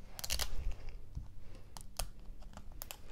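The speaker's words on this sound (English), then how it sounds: "These zippers are easier to open than I've had before." A close-up zipper on an LOL Surprise toy ball rasps open in short, scratchy bursts, mixed with crinkly plastic handling noises.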